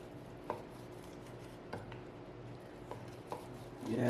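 A knife cuts through cooked Berkshire Kurobuta spare ribs grilled on a Weber, giving a few faint, soft taps against a board over quiet background hiss, with a louder rustle at the very end.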